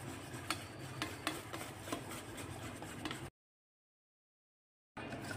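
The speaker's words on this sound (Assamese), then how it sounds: "তেলখিনি দি একেলগত ভালদৰে ফেটি ল'ম।" Eggs and oil are beaten together for cake batter, giving a close, rapid scraping and clicking rhythm of whisking in a bowl that cuts off abruptly partway through, then resumes briefly.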